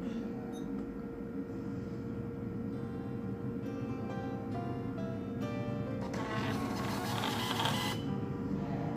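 A Verifone EDC card terminal prints a receipt with a steady close mechanical whir, then a louder buzzing feed burst near the end. No talk.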